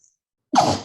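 A single short, loud sneeze bursts out abruptly after near silence, close to the microphone, with no speech around it.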